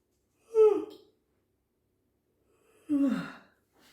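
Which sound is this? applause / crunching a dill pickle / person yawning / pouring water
person yawning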